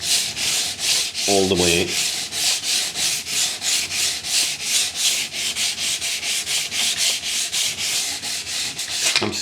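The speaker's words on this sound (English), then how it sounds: "now I'm just going to take my sanding block and take that down at 45" Rhythmic back-and-forth rasp of a sanding block rubbing a laminate worktop edge trim at 45 degrees, steady strokes about twice a second, close and loud, with a few brief spoken words.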